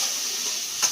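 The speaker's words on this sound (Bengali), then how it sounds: "পেঁয়াজ টেঁয়াজগুলো ভালো করে ভেজে নিচ্ছে," Onions and whole spices frying in a karahi previously used for aubergines, a steady close hiss and sizzle with one small pop near the end.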